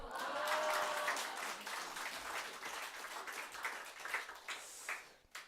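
A church congregation at a Sunday morning service breaks into applause, loud, dense clapping from many hands filling the room, which thins and tapers off toward the end.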